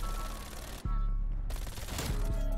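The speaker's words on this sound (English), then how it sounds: "I think he keeps on popping his hand cannon." Hand cannon gunfire from a video game, with a heavy shot and a few more bangs over dense, noisy game action and rumbling background.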